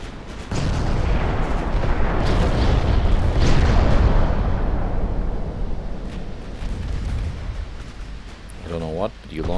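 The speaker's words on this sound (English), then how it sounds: "Okay, you launched torpedoes at something." Naval combat in Ultimate Admiral Dreadnoughts, with a torpedo launch amid steady, loud booming gunfire and rumbling explosions that keep going through the scene, tailing off near the end.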